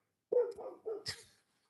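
A dog barks nearby: about four quick barks in a short burst, then silence, with no talk over them.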